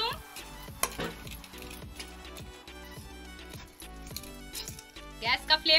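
A spoon scrapes and stirs a spice mixture for bread pakora in a pan in regular rhythmic strokes, with a light sizzle and occasional clinks of metal. The strokes are close and fairly quiet.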